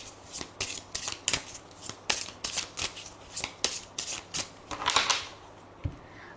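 Tarot cards are shuffled by hand in a quiet room, a rapid series of crisp, riffling flutters and soft slaps repeating in an irregular rhythm up close.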